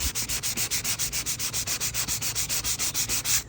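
Steady back-and-forth hand sanding scrubs the old failed finish off a wooden rocking chair, a close, even rhythm of about six rasping strokes per second with no talk.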